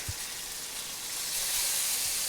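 Boneless pork chops sizzle steadily as they brown in a hot pan, a continuous bright hiss with faint pops, unbroken and fairly close.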